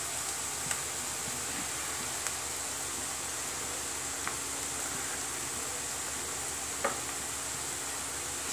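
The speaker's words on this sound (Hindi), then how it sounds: "इधर प्याज हमारे फ्राई हो रहे हैं" Onions frying in a pan for a restaurant-style veg biryani make a steady, even sizzle throughout, broken only by a few faint clicks, with no talking.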